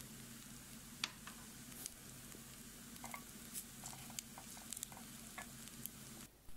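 Ingredients fry in a pan with a steady sizzle and soft crackling pops, plus occasional stirring and scraping sounds, close and fairly quiet throughout.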